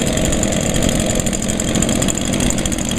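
Two gas leaf blowers, an Echo PB 251 and a Stihl BG 86, idle side by side with a steady, buzzing two-stroke drone and a fast, even engine pulse, close and unchanging throughout.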